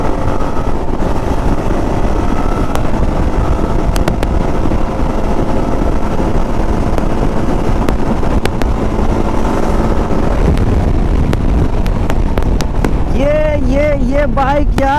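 A 2025 Yezdi Adventure motorcycle on a ride: a loud, steady engine drone with heavy wind rush across the microphone, and the engine note sweeping up and down near the end as it revs.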